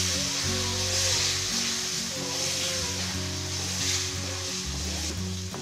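Mango juice hisses loudly as it is poured into semolina roasted in ghee, and the steady sizzle continues close and alone.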